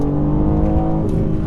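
A 500hp all-wheel-drive BMW M3 launching under launch control, its engine droning loud and close with a steady, throaty roar throughout.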